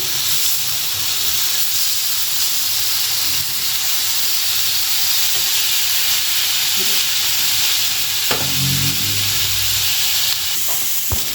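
Chicken pieces sizzling on a hot grill pan, a steady loud hiss of frying fat running throughout with a few brief clinks near the end.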